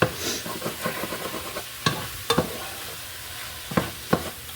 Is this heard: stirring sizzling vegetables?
yes